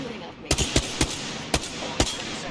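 Gunfire in Apex Legends, several sharp loud shots in an irregular rhythm, single cracks and quick pairs, with game ambience between them.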